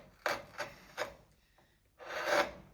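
A deep canal gouge cuts into wood to form a pocket hole, rasping in three short, spaced strokes followed by a longer scraping pass, close and fairly quiet with no talk.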